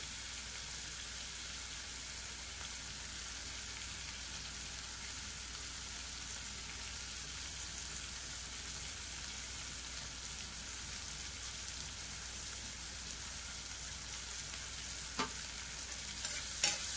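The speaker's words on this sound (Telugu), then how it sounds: "ఉల్లిపాయ కొద్దిగా ఫ్రై అయితే చాలు" Onions fry gently in a pan with turmeric, salt and green chillies for a bottle gourd and potato curry, a soft, even, rain-like sizzle held steadily throughout, faint and without speech, ending in a few light clicks.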